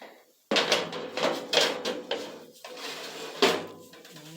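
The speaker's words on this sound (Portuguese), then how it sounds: "E agora a gente vai colocar para assar no forno, que já estava pré-aquecido a 180 graus." A carrot cake pan goes into an oven preheated to 180 degrees, bringing a sudden close clatter of metal on the oven rack and several bumps and scrapes as it slides in, then the door knocks shut.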